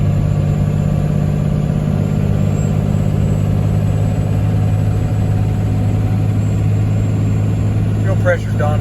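A Cummins diesel Ford F350 pickup towing a load of cattle and hay at highway speed, giving a steady, loud low engine drone and road rumble throughout, with a brief faint rattle near the end.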